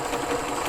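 A sewing machine stitches along a fabric bag handle, a steady rapid mechanical whir close by, even and unbroken throughout.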